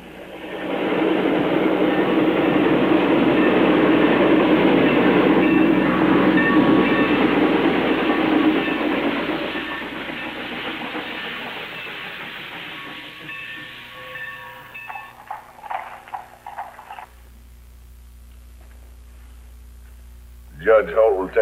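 A steam train runs along the rails in an old western setting, a loud rumbling clatter that holds steady, then fades away over the second half, leaving scattered quieter sounds.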